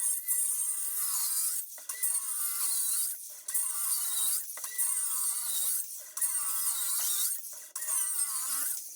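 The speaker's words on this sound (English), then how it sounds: "I'm actually gonna be going through a knot on this one," A cordless power saw cuts through a knot in wood while IKEA kitchen cabinets are being installed, giving a high whining buzz in repeated strokes with short pauses between passes.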